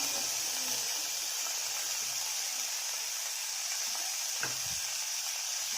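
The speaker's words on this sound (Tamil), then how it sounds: "தக்காளி ஆட் பண்ணிட்டு நல்லா வதக்கி விட்டுக்கோங்க." Tomatoes and onions sauté in a pan for mutton soup with a soft, steady sizzle and hiss, broken by a few light stirring scrapes and a small clink near the end.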